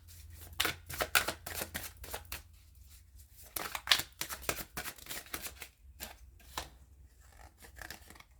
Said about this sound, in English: Let's wake up the deck, shuffle up the deck, and get some messages.